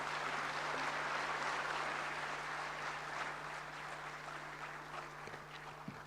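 An audience at a World Veterinary Day event claps continuously, a dense, moderately distant patter of many hands that gradually tapers off over several seconds, with a low steady hum underneath.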